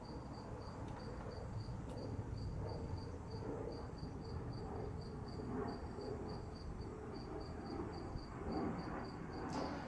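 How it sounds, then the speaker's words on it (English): Cicadas buzz steadily in the background as a continuous high-pitched drone with a regular pulsing rhythm, together with softer ambient noise throughout. "The cicadas in the background,"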